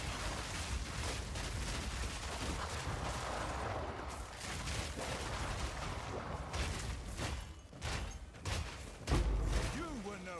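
Herald explosions burst repeatedly in Path of Exile 2 action play, a dense, continuous barrage of booming thuds and crackling blasts with louder hits near the end, mixed under game voices.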